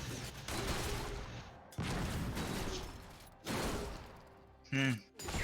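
Graves firing his shotgun in a League of Legends esports match, heavy booming blasts in a few bursts mixed with game effects and a caster talking over the action.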